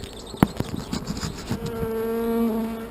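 Honeybees from an artificial swarm buzz in a steady, close drone, with a few sharp knocks and handling thumps early on, and the hum swells slightly toward the end.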